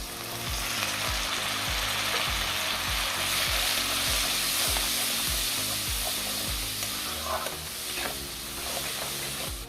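Onion and dry spices with a splash of water frying in a pan, a loud continuous sizzle with a regular rhythm of spatula scrapes and stirring strokes, close and without speech.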